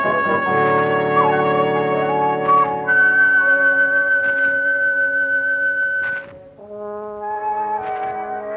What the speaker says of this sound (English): Let that whistle be your signal from the Whistler each Wednesday at this same time.